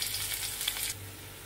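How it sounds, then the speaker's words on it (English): Ginger garlic paste and a green chili sizzling in hot oil, a brief close hiss that drops to a quieter simmer partway through, no voices. "Now I will add ginger garlic and green chili."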